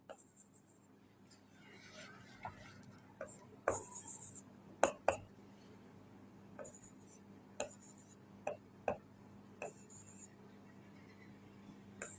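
A teacher writing questions on a board during a maths class, a series of sharp separate taps and scratchy strokes against a low steady hum, spaced irregularly and fairly close.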